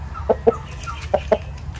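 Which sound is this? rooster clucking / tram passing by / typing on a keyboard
rooster clucking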